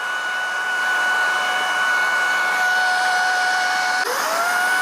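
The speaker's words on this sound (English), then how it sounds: "So now I want to demonstrate the sound and also the power of this vacuum cleaner." A Shark Vertex cordless stick vacuum runs steadily in its first mode, a loud, constant whine with tonal motor hums, shifting briefly near the end as the pitch changes.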